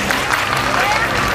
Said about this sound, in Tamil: உங்களுக்கு ஒரு கரகோஷம்.